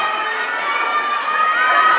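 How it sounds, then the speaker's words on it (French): Audience at a French Latin dancesport championship applauding and cheering as a couple is introduced, a loud continuous crowd roar with shouts mixed into the clapping. "Sous vos applaudissements"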